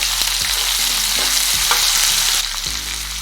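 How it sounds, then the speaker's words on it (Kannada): Sliced onions frying in hot oil in a pressure cooker, a continuous bright sizzle broken by the scrape and clack of a stirring spoon. "ಈರುಳ್ಳಿ ಚೆನ್ನಾಗಿ ಕಲರ್ ಚೇಂಜ್ ಆಗೋ ತನಕ ಚೆನ್ನಾಗಿ ಫ್ರೈ ಮಾಡ್ಕೊಳ್ಳೋಣ"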